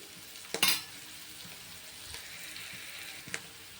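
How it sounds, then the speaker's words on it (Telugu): Onion, green chilies and curry leaves fry in oil toward golden brown, a faint steady sizzle broken by a few clanking stirs of a spoon against the pan, with no talking. "ఉల్లిపాయ పచ్చిమిర్చి కరేమాకాన్ని వేసుకొని దీన్ని గోల్డెన్ బ్రౌన్ కలర్ వచ్చే వరకు వేపుకుందామండి"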